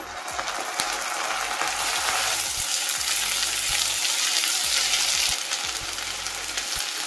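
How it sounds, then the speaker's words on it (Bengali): Onions fry in hot oil after ginger-garlic paste is added, a loud, steady sizzle broken by scraping and clattering stirs of a utensil against the pan. "পেঁয়াজটা দেখতেই পাচ্ছেন ভালোভাবে ভাজা হয়ে গেছে"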